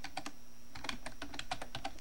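Website address typed on a computer keyboard, a quick run of close, quiet key clicks in uneven bursts with short pauses.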